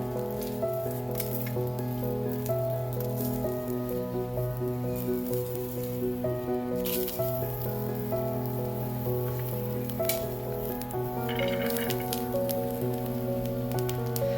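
Garlic and ginger sizzle steadily in hot oil in a pan, a continuous loud frying hiss alone throughout, with background music tones beneath.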